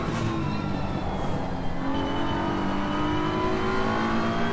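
A BMW race car in the racing game Assetto Corsa Competizione at Brands Hatch, its engine holding a high, steady whine that climbs through gears, continuous and fairly loud with no talk over it.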